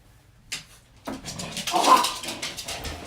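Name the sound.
dog barking and whimpering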